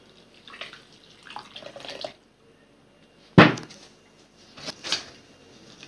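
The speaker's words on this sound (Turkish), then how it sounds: "3 su bardağı sıcak su ekliyoruz." Hot water poured into a bowl of fine bulgur and semolina while making içli köfte dough, heard as a sudden loud splash and then shorter watery pours, with softer kitchen clatter before it.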